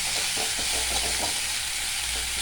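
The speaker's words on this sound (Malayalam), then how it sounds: "ചീരയില അങ്ങോട്ടിട്ട് ഇളക്കി" Spinach leaves stir-fried in a pan just after mustard seeds have popped: a steady, even sizzle with faint stirring scrapes throughout, no voices.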